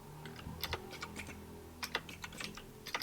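Quick bursts of clicky keystrokes on a computer keyboard while Python code is typed, uneven clusters of taps with short pauses between them, close and fairly quiet, no voices.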